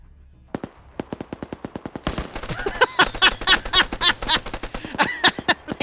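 Rapid mortar and gun fire in a strategy video game, a fast train of sharp repeated bangs that grows louder and denser midway, then keeps pounding in a quick, even rhythm.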